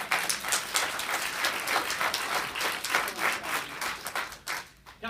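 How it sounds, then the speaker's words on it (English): Audience applause for a speaker at a live health discussion event in Liverpool, a steady wash of clapping from a crowd that runs for several seconds and then thins out near the end. "I'd give that speaker a round of applause"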